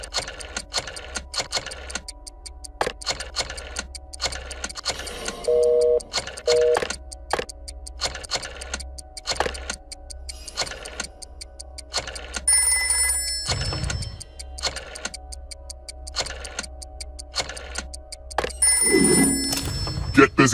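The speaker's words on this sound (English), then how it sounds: "Dial one of these numbers on your rotary phone before anyone else, or you die." A rotary phone in the video game Trivia Murder Party 2 clicks through rapid dial pulses in repeated bursts, punctuated by short bright bell rings, with people talking intermittently over it.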